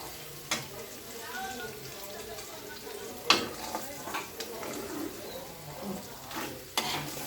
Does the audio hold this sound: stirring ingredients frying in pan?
yes